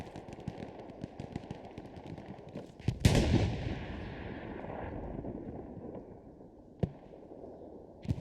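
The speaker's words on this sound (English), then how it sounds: "One taps Miller there with a shot" Gunfire in the Hell Let Loose online shooter, with one loud close rifle shot ringing out over continuous battlefield rumble and distant crackling fire, followed later by another sharp distant crack.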